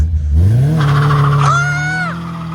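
Boosted Infiniti G37 blipping its engine in a clutch kick, revs sweeping up and holding high, with a squealing tire chirp partway through; loud and close, no talking.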